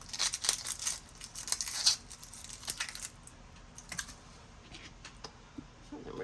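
Dry papery crinkles and small crisp snaps as the outer skin is peeled off a red onion by hand, up close and quiet, busiest in the first few seconds and then sparse.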